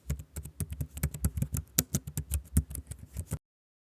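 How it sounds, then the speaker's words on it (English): Rapid keystrokes on a computer keyboard, a steady run of sharp clicks for about three seconds before stopping abruptly, close and clear with no talk. "I'm typing that now."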